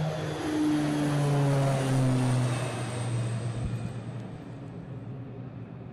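A propeller airplane flying over Greenland, a loud sustained engine drone with gliding tones that shift in pitch as it passes, slowly fading toward the end.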